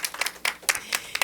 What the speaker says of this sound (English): can all of us women give the men an applause here?